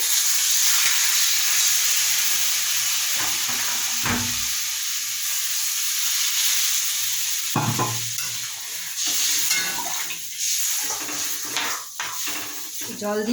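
Vegetarian potato curry (aloo dum) with torn green chillies simmers in a pan after water is poured in, giving a steady loud sizzle and hiss throughout, broken by occasional scraping stirs and clinks of a utensil against the pan.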